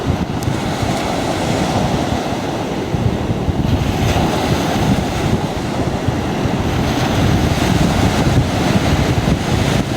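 Ocean surf breaks on a beach in a continuous loud wash of rushing water, with heavy wind buffeting the microphone throughout and no voices.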